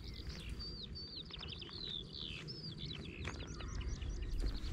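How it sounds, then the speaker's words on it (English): Continuous high, warbling birdsong on a village hiking trail in Dickschied, Germany, in early summer, attributed to a skylark; fluttering trills and chirps run throughout over steady low background rumble. "Right at the beginning we are greeted by a skylark."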